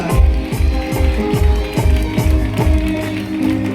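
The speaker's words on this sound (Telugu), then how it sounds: "గట్టిగా చప్పట్లు కొట్టండి, గట్టిగా యేసయ్యానండి." A worship congregation clapping their hands loudly in steady unison, sharp claps about twice a second over devotional music, with a voice calling out between them.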